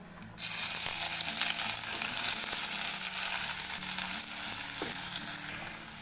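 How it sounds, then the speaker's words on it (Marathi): Onion dropped into hot oil in a wok bursts into a loud, steady sizzle that starts abruptly and keeps hissing evenly, close up, with no talk over it. "कढईमध्ये बघा तेल टाकलं आहे आणि चांगलं गरम झालं आहे सगळ्यात आधी कांदा टाकायचा आणि कांदा लाल करून घ्यायचा"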